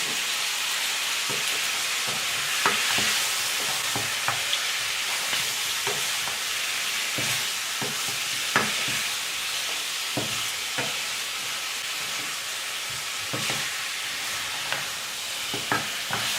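Braised pork ribs sizzle and spatter in a hot pan after dark soy sauce goes in, a steady loud frying hiss with scattered pops and stirring clacks throughout, with no voices.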